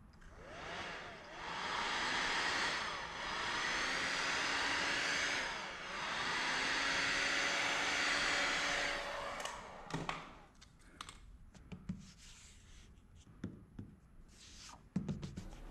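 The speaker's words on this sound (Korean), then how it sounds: "이제 히팅건으로 열을 줘가면서 말리는 건데요" A heat gun drying freshly sprayed primer on a car bumper blows a steady, breathy whoosh in long passes that swell and fade, then cuts off and leaves scattered taps and handling noises.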